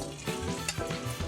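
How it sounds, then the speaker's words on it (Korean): Glutinous rice dough, hot-water kneaded, deep-frying in a small pot of oil over lowered heat: a dense, steady crackling sizzle with bursts of popping, close and alone. "바삭한 소리 들리죠?"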